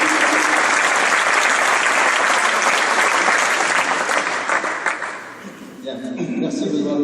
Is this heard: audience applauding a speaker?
yes